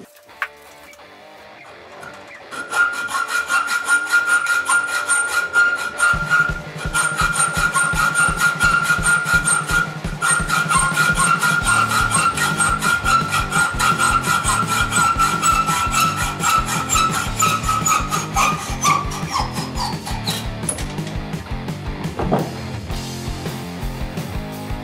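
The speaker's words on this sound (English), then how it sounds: "I'll be cutting one with a standard hacksaw. With the other one, I'm going to use the SP-Air" Exhaust manifold studs being cut first by hand with a standard hacksaw, then with an SP-Air SP-7610 gear-type reciprocating air saw, heard close up as a rapid, rhythmic rasping of metal on metal that runs loud and continuous with no speech.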